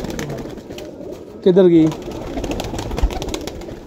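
A seven-year-old Sialkoti pigeon gives a short, loud coo in a bird house, set among steady chatter and other voices throughout.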